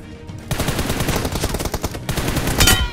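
Rapid hip-fire gunshots from a team deathmatch shooter game ring out in dense, continuous bursts after a brief quiet start, loud and close, with no talking over them.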